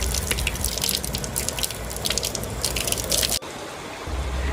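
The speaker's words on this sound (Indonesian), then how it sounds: "Di sebelah barat ada sungai yang mengalir deras, tepatnya di belakang musola." A fast-flowing river runs behind a prayer house in rice fields near a remote village grave, producing a continuous loud rushing, splashing wash that cuts off abruptly and then resumes more faintly.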